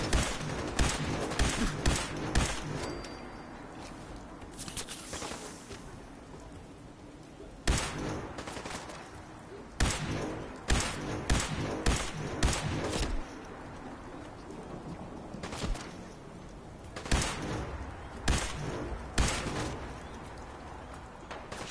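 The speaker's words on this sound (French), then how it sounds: "Il me tire dessus." Gunfire in Fallout 4, bursts of rapid shots in repeated volleys separated by short pauses, fairly quiet overall, with sharp clusters of cracks recurring across the stretch.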